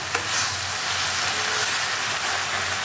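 Leafy greens wilting and releasing water in a hot pan, a steady loud sizzle with bursts of stirring, close up and continuous with no talking.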